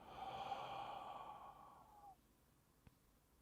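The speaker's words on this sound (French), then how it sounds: "Vous soufflez par la bouche." A single long breath blown out through the mouth during a breathing exercise, a soft breathy whoosh lasting about two seconds that tapers off, then near silence with a faint click.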